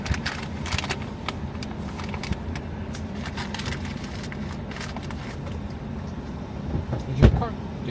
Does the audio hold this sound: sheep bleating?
no